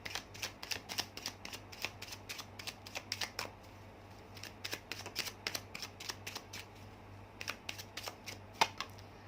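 Tarot cards being shuffled by hand in rapid riffling bursts, soft and close, with brief pauses between runs of crisp card flicks.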